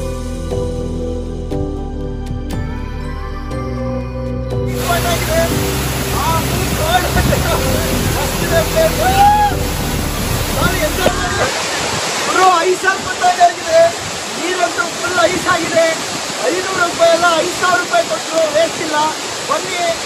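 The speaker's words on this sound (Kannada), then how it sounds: "ಈ ಫಾಲ್ಸ್ ಬ್ಯೂಟಿಫುಲ್" Hebbe Falls in Chikmagalur, Karnataka, roars as a loud, continuous wash of rushing water close by, steady throughout, with a tonal musical passage at the start before the falls take over.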